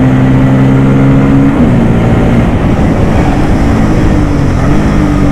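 A Bajaj Pulsar N250 motorcycle ridden at steady speed, its engine hum holding a fairly even pitch with a slight dip in the middle, mixed into loud continuous wind and road rush, close and with no voices.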